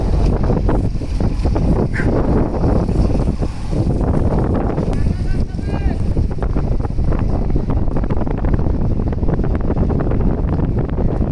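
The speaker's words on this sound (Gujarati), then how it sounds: "જો આપણે બોટ કાઢવાનું ચાલુ કામ થઈ ગયું છે. અહીંયા આપણે દરિયામાં ચાલ્યા છે હમણાં." A fishing boat putting out to sea from Veraval harbour, with a steady rush of wind and engine rumble buffeting the microphone throughout, waves and water noise mixed in, and voices talking faintly under it.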